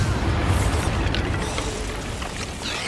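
A Bombarda blast in Hogwarts Legacy, a dense low boom that rumbles steadily for a few seconds, loud and close, with a faint crackle on top.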